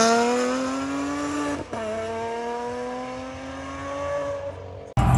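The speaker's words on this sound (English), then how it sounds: "Yeah, that was an F12 Berlinetta. Those sound ridiculous, as you just heard." A Ferrari F12 Berlinetta fitted with an aftermarket exhaust roars past at a car meet, one loud sustained engine note holding steady and sliding lower as it passes, then a sharp burst at the end.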